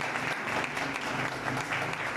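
Church congregation applauding, a dense, even wash of many hands clapping throughout, fairly distant and steady.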